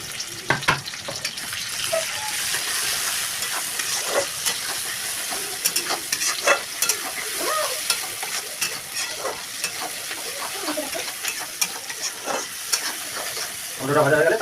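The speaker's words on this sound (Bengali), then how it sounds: "এইসা লাল লাল টমেটোটা ভাজবো পুরো।" Tomatoes fry and sizzle in a pan during home cooking of chicken in yogurt, a steady close hiss broken by frequent stirring scrapes and clicks, with brief voice at moments.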